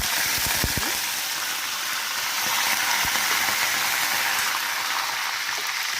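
Curry leaves crackle and sizzle in hot tempering oil in a potato curry, a dense steady frying hiss throughout with a few sharper pops near the start, close and fairly loud.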